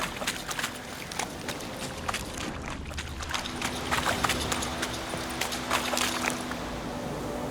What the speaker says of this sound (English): To have your horse come to you, press X.